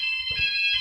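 An EMS FirePoint 5004 fire alarm system's sounders blare a steady, piercing electronic tone, loud and continuous, with faint low rumbling underneath.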